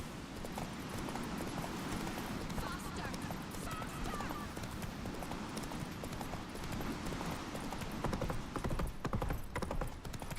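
Roach, Geralt's horse in Witcher 3, gallops with continuous rapid hoofbeats amid busy game sound, with a voice speaking over the ride.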